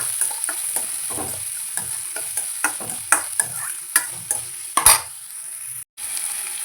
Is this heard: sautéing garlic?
yes